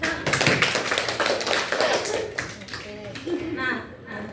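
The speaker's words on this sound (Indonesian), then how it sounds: "Tepuk tangan untuk kita." A classroom of students claps hands together during a peer-teaching lesson, a dense burst of close, fairly loud clapping that thins out toward the end, with voices mixed in underneath.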